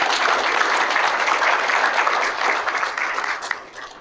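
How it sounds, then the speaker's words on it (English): A conference audience at an agriculture event gives a round of applause, a dense, loud wash of clapping that holds steady, then thins and fades toward the end. "I'd just like to give everybody another round of applause if we could."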